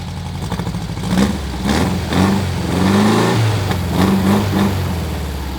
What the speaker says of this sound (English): This is like a NASCAR loud motor.